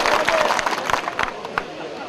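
Audience at a mushaira poetry recital in Nalasopara breaks into brief clapping amid crowd murmur and chatter, a scattered, moderately loud patter with overlapping voices.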